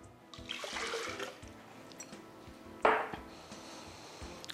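Water is poured from a cup into a kitchen container for lemon manjar, a splashing pour followed by a short louder slosh, close and fairly quiet with no talk.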